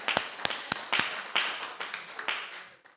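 Scattered clapping from a church congregation at a Methodist worship service, about a dozen separate claps at an uneven rhythm, fairly close and moderately loud, fading at the end.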